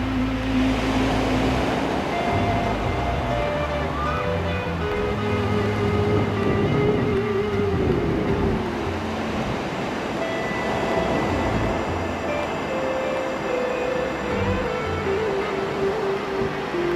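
A British Army Westland Wessex helicopter passes over a beach in southwest Cyprus, a continuous loud low rumble and rotor throb that swells and holds for most of the stretch, with no talking.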